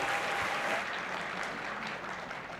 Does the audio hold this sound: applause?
yes